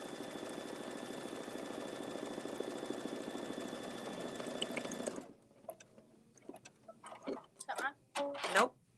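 A sewing machine runs steadily for about five seconds, a dense rapid mechanical whir while triple stitching along the edge of an apron, then stops and a few people talk quietly.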